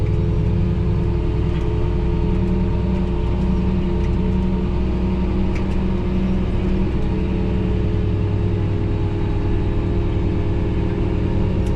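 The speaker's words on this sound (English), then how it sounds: "so you can just listen to the tractor and get the sense of being in it" A Fendt 1050 tractor's diesel engine drones steadily and loudly at close range during cornstalk tillage, a low rumbling hum with no pauses.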